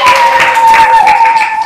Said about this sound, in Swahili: Hebu mpigie Yesu makofi kwa ajili.